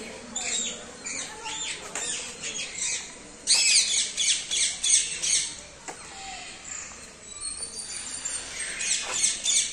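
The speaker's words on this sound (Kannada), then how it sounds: "ರೋಸ್ ರಿಂಗರ್ಡ್ ಪ್ಯಾರಕೀಟ್ ಅಂತೆ." Rose-ringed parakeets at the Bannerghatta zoo aviary give repeated harsh, shrill squawks in bursts, fairly close, with other chirps around them and no clear talk.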